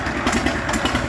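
An engine-powered concrete mixer machine runs at a construction site with a steady, close mechanical drone and a faint rattle, briefly and with no voices.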